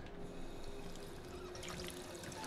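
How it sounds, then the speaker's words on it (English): Water pours and trickles steadily as a character drinks in the Fallout 4 video game, a continuous faint liquid sound throughout. "Someone drink the water."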